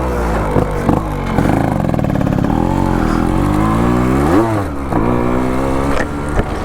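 Yamaha RX 135 two-stroke motorcycle ridden slowly in a normal run, a close, loud engine note rising and falling through gear changes with a brief rev swell near the end; the bike has worn clutch plates.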